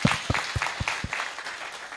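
Audience at a stakeholders' sensitization workshop on the national pig value chain gives applause, a steady patter of many hands at moderate, somewhat distant level, with a few louder individual claps standing out.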